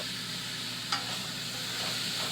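Onions and tomatoes frying in a pan for a spaghetti sauce, a steady low sizzle running throughout with a single brief scrape of stirring near the start, close and fairly quiet.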